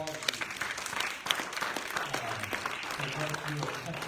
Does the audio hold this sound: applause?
yes